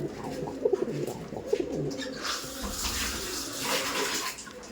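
Pigeons coo in a few soft, throaty bursts early on, followed by a broader watery splashing wash, with no one talking.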